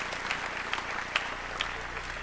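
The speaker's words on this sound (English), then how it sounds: "round of applause" An audience claps steadily at a high school graduation ceremony for the Washington Township class of 2026, a continuous, moderately distant patter of many hands with a few sharper claps and faint crowd murmur.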